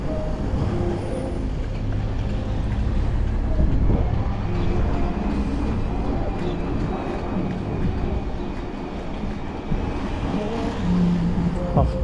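A bus passes on a road near Yalta, Crimea, heard from inside a moving car: a steady, fairly loud engine rumble with road noise that swells slightly as it goes by.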